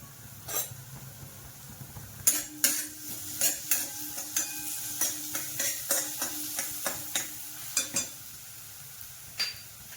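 Ajwain and cumin seeds crackle in hot oil for samosa filling: a soft sizzle under a quick run of sharp pops and light metallic stirring clicks, close and clear.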